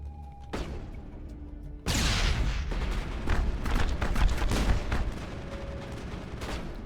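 Turret gunfire in the Mass Effect video game, a sudden loud burst of rapid, dense shots that starts abruptly and keeps rattling steadily with heavy thumps to the end.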